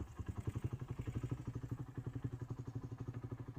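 A Hero motorcycle idles close by, its single-cylinder engine putting out a steady, rapid chug of regular thumping pulses with a faint mechanical clatter over a few seconds.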